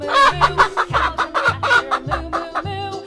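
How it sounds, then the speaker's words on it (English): A chicken clucks close and loud in a steady, rhythmic run of about eight short, bright clucks, each evenly spaced with no other sound around them. "Chicken."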